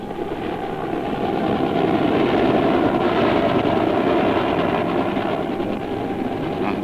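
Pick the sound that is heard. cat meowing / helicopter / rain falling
helicopter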